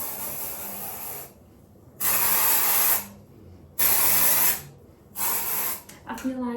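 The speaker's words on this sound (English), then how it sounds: "I'm just gonna add a little bit of dry shampoo into it" Dry shampoo sprays from an aerosol can into hair in four loud, close hissing bursts of about a second each, separated by short pauses.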